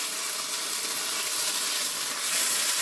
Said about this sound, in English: we're going to stir them around